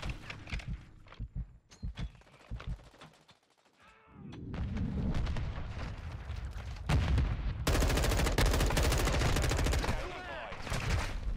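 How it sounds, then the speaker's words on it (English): Gunfire from the Call of Duty: Modern Warfare II beta, heard through headphones: rapid bursts of automatic weapons and heavy sustained shooting with explosions, fairly faint and building in intensity. Brief sparse shots open the passage. "These guns really got some recoil to it."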